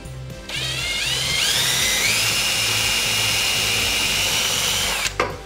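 A power drill drilling out rivets whines steadily at high pitch for several seconds, its tone rising as it bites, then cuts off abruptly near the end.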